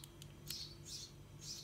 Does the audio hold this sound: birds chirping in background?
yes